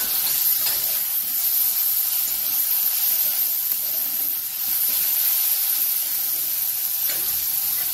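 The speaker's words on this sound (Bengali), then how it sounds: "এবার আমি টমেটোটা দিয়ে দিচ্ছি" Tomatoes hit a hot pan in a home kitchen and set off a loud, steady sizzle, a dense hissing spatter that holds almost unbroken for the whole stretch.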